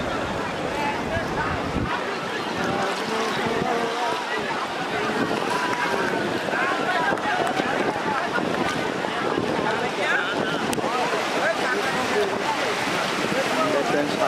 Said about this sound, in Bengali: ঢেউ আসতেছে, মনে হচ্ছে জোয়ার ভাটার সময় এসে গেছে আমাদের